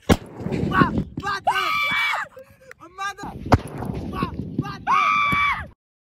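A Diwali sutli bomb firecracker from Sivakasi goes off with a sharp bang near the start and another partway through, while excited voices talk and shout around it.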